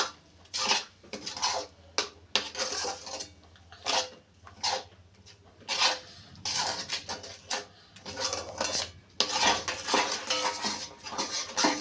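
Palm fruit pulp worked by hand in a metal bowl for taler bora batter, giving repeated uneven clinks and scrapes of utensil on dish, close by, in bursts with short gaps and no talk.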